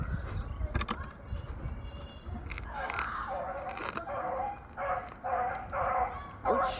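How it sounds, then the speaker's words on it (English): Loose dogs bark and yip close by outdoors during a bike ride, a series of sharp, irregular barks over background rumble and movement noise, growing more frequent toward the end. "Oh shoot, someone's dogs just got loose."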